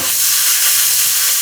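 Sliced zucchini frying in a hot pan gives a steady, loud, close sizzle and hiss that runs unbroken throughout.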